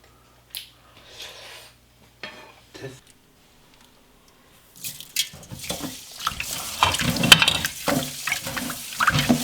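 Oysters being rinsed in salted water with sea salt, starting with a few faint splashes and then building into steady, close sloshing and running water. Voices talk softly early on.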